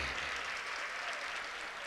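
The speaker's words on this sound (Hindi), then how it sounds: "एक बार इनके लिए जोरदार ताली बजाइए।" A large audience at a poetry event clapping together, a dense steady wash of applause that holds evenly throughout.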